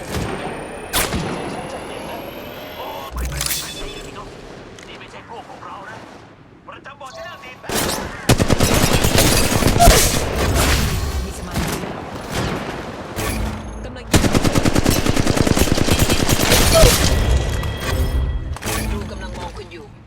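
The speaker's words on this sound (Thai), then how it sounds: "ศัตรูถูกล็อกแล้ว กำลังยิงต่อสู้" Gunfire in the mobile battle royale game Apex Legends Mobile: loud bursts and volleys of shots, heavy and sustained in the second half, with a voice talking at times over the fighting.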